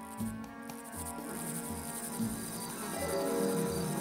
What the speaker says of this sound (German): Und dann kamen die Heuschrecken